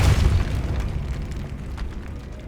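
A Depulso force spell fires in Hogwarts Legacy, starting as a loud, deep booming burst that settles into a steady low rumble.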